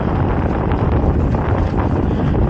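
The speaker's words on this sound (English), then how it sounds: "I know it's really windy out here." Loud, constant wind buffeting the microphone, a dense low rumble with gusty roar throughout and no voice coming through.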